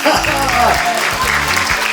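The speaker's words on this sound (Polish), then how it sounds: "Wielkie brawa!" Crowd applause at an outdoor ceremony opening a footbridge named for a charity foundation, on an island, steady clapping throughout with a voice or music tones over it.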